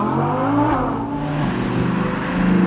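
Audi R8 Spyder accelerating hard, its engine rising in pitch through a quick gear change and climbing again, loud and close, with no talking.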